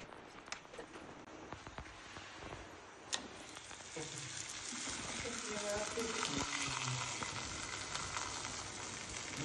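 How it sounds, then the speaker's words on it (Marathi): Thepla flatbread roasting with ghee on a hot griddle gives a soft, steady sizzle that stays faint and low throughout, with a few light clicks along the way. "मी आता याला तव्यावर तूप लावून दोन्ही साइडनी चांगलं खरपूस शेकून घेते।"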